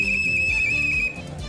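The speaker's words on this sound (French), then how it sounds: "Une semaine que le sifflet n'avait pas retenti" A school whistle blown in a schoolyard gives a sharp, shrill, sustained blast with a slight trill. It lasts about a second and is close and loud, with no talking.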